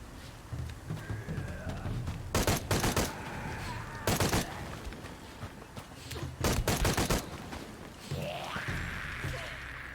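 Bursts of gunfire from Shadow of the Tomb Raider played on PC: several loud clusters of rapid shots separated by pauses, with game ambience and brief sounds in between.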